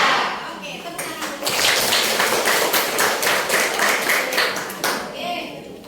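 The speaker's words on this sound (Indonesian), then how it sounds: "Oke, tepuk tangan." A classroom of students claps hands together, starting scattered and quickly building into a few seconds of fast, loud, rhythmic clapping before trailing off, with some voices mixed in.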